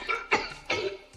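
A person imitates General Grievous's raspy Star Wars cough with three short, harsh, wheezing hacks in quick succession, close and fairly loud.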